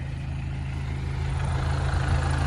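A tractor engine idles steadily nearby, a continuous low rumble with strong low-pitched harmonics that holds even and unbroken for the whole stretch, with no voices over it.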